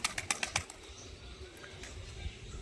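Pigeons in a home pigeon loft flap their wings in a quick burst of fluttering claps, then fall to soft shuffling and faint rustling close by.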